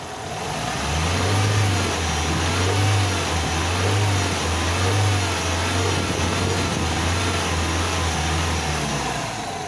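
A car engine under a MAF sensor diagnosis being blipped repeatedly off idle, several close, loud revs rising and falling in a steady rhythm with a low rumbling drone between them, no talk.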